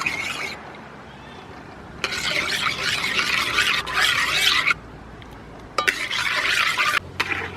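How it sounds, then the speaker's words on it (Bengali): Powdered milk being stirred into lukewarm water in a bowl gives bursts of scraping and swishing spoon strokes in several separate spells with short pauses between them. "অল্প অল্প করে দেব আর এইভাবে মেশাতে থাকবো"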